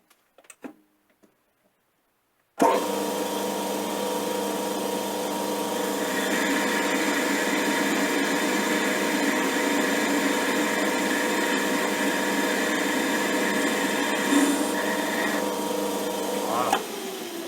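A metal lathe takes a 1 mm cut off a spacer for a Vevor press: a steady, loud machining whir with tonal hum runs continuously after a quiet start, with a brief clunk near the end.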